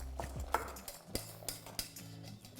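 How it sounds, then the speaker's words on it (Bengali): A spoon stirring milk powder into hot milk for falooda, a handful of soft clinks and taps against the pot over under three seconds, close and quiet, no talking. "আমি এখানে 1 কাপ গুঁড়ো দুধ দিয়ে এটাকে ভালো করে একবার মিশিয়ে নেব।"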